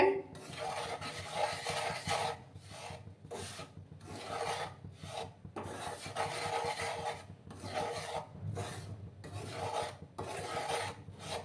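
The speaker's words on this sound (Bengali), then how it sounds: "নাড়াচাড়া কিন্তু বন্ধ করা যাবে না, অনবরত নাড়াচাড়া করে যেতে হবে।" A spoon scraping and stirring semolina halwa in a pan: repeated rhythmic rasping strokes, close and fairly soft, in uneven bursts separated by short pauses, with no talk over it.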